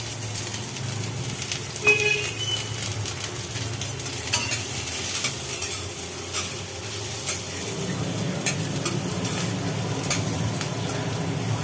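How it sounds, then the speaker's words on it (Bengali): Onion and garlic fry in a pan for greens, with a steady close sizzle and occasional scraping stirs and clinks of a spoon throughout. "পেঁয়াজ রসুনটা ভাজা হয়ে গেল"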